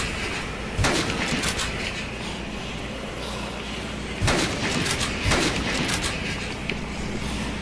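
Sniper rifle shots fired at zombies in the Dead Rising video game on Xbox 360, three sharp loud cracks spread across a few seconds over a steady game background.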